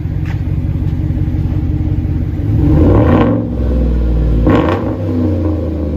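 A 2015 Chevy Silverado with a 5.3L V8 and Dynomax Race Bullet exhaust revs hard twice from a deep idle rumble, each blip swelling loud and close before settling back.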